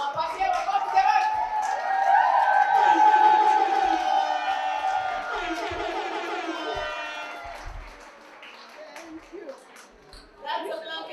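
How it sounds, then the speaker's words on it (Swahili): An audience at an International Women's Day celebration breaks into loud, sustained cheering and crowd noise that swells, then fades over several seconds, with voices heard in the mix. "Give them a bigger hand"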